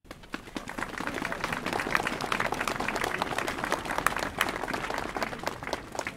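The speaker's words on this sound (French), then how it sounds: "On peut les applaudir" Sustained applause from an outdoor crowd at a Franco-German friendship anniversary ceremony, steady dense clapping for several seconds with some murmuring voices mixed in.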